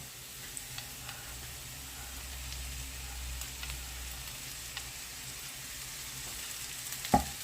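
Young cabbage drops into a pan of carrot and onion frying on a gas stove, a steady soft sizzle with faint ticks and a sharper clatter near the end.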